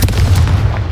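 Confringo explosion spell cast in a video game, a loud sudden blast with a deep booming thump that fills the whole second.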